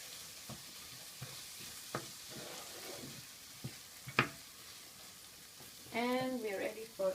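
A spoon scrapes and taps in a pan as garam masala is mixed into a spinach and corn curry, with a quiet sizzle under scattered clinks and a brief voice near the end.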